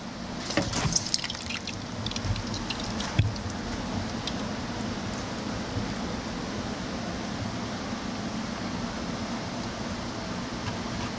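Oil rushes from a pressurized tank through a freshly opened valve, a steady hissing, gurgling flow that stays constant for several seconds after a few initial clanks, close by, no one speaking.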